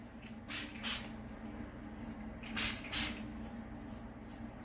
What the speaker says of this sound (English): spray it in all of the problem areas